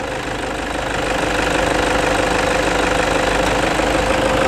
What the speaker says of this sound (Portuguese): Olha o motor, como que tá funcionando redondinho.